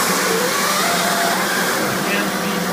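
A steady, loud whooshing drone of the air vacuum on a sheet-fed perforating machine runs continuously, unchanging throughout.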